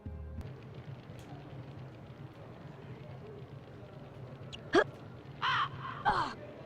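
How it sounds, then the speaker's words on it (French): A crow caws in the PS1 game Harry Potter 2: several sharp, separate caws near the end over a steady rain-like background of game ambience. "il y a le corbeau qui crie"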